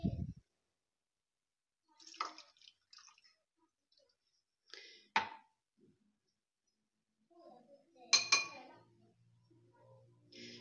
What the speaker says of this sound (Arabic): غادي ناخذوا بعدا الحليب باقي سخون، غادي نخلطوه مع الكاكاو